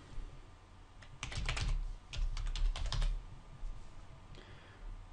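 Keys clatter on a computer keyboard in quick, uneven bursts with short pauses between them, close and clear over a faint steady background hum.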